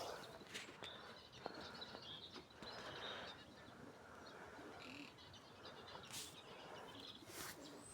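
Pigeons cooing in a loft, soft repeated coos mixed with scattered chirps, faint and somewhat distant with no talking.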